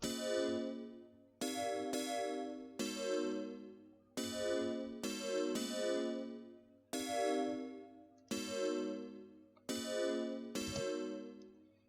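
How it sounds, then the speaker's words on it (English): A bright electronic bell plays a repeating melodic pattern in a steady liquid drum and bass beat made in FL Studio, each ringing note decaying quickly before the next, over a low bass hum. "Added a bell just to give the piano melody"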